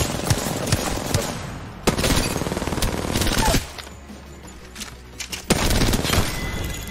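Heavy gunfire in Apex Legends, with repeated loud Wingman revolver shots cracking in short bursts and rapid volleys, a brief lull in the middle before the shooting resumes.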